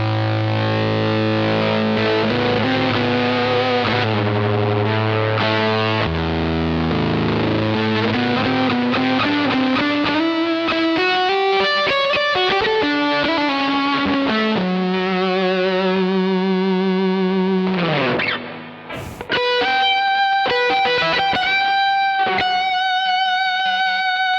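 An electric guitar played through an Ideyha Giga Distortion pedal gives heavily distorted, sustained notes and sliding bends, loud and saturated with effects, with a brief cut near the end before a new distorted phrase starts.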